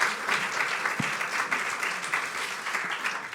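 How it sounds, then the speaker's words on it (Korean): Church congregation applauding together at a Sunday Christmas service, a steady, dense wash of clapping that fills the room evenly from start to finish, with one low thump near the one-second mark. "우리 청년들 향해서 너무 감사하다고 한번 격려의 박수 주시면 감사하겠습니다"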